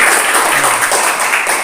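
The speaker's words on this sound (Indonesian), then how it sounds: "Tepuk tangan." A classroom of students claps after a group presentation, a short, loud and close burst of dense applause.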